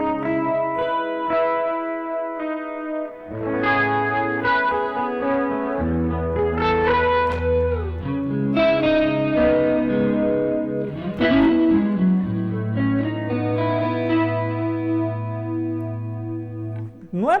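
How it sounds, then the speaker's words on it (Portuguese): An electric guitar runs through a multi-effects pedal with reverb and chorus switched on, playing sustained chords and melodic notes that shimmer and ring out with long, washing tails, loud and close throughout. "Liguei o reverb, liguei o chorus"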